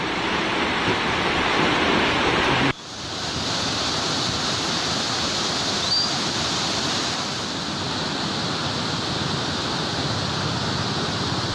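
Floodwater pours in a torrent from overflowing dams after heavy, continuous rain, submerging homes and places of worship: a loud, steady rushing roar that briefly dips near the three-second mark, then continues unbroken with no voices.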